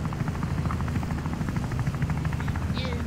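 A jet in the video game Wobbly Life flies with a steady, loud engine drone and rhythmic rotor-like pulsing that holds constant throughout, with no talking over it.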